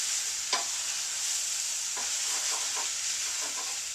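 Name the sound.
stirring bacon fried rice in a pan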